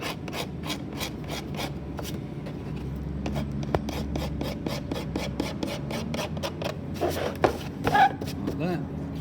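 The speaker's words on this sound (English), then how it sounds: "I like to sort of just give the surface a bit of a scrape to get down to some nice clean plastic" A plastic surface on a homemade hookah dive system is scraped clean before urethane goes on, giving quick repeated rasping strokes, close and steady, with a faint voice in the background.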